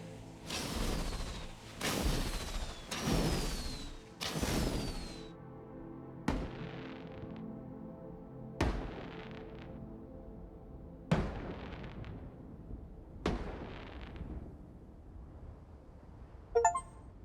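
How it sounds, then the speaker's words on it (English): Fireworks launched in a video game: a quick run of loud whooshing bursts with booming pops, then spaced single thuds and crackles that fade, with a sharp crackle near the end. "Oh, I can light the fireworks."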